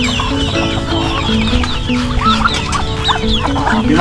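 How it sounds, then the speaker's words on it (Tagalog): Backyard chickens cluck loudly at afternoon feeding time, with ducks and turkeys in the flock; dense, continuous overlapping clucks and squawks close by. "Papakain po tayo ng ating mga alagang manok, pato, saka pabo."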